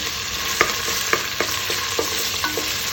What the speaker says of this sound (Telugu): పచ్చివాసన పోయిన వరకు వేయించుకుంటూ ఉండాలి